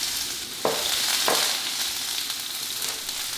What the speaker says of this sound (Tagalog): Ginigisa ko lang muna yung sibuyas hanggang sa lumambot na to ng tuluyan.